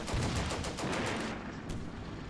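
Distant artillery bombardment from the WWII strategy game Combat Mission Beyond Overlord, a steady rumbling barrage of overlapping blasts and crackling impacts with no talk over it.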